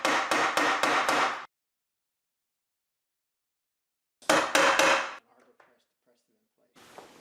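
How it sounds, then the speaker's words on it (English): Quick bursts of sharp tapping from a plastic hammer driving pins into an Accu Slice index table bracket, several hits in rapid succession, repeat after a pause, with faint thuds trailing off. "Don't use a metal hammer, and just use a plastic hammer."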